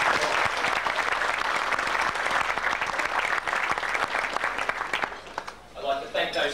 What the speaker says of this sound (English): I think just one more round of applause for Dr.